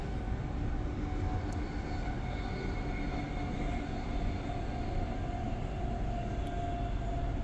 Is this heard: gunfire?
no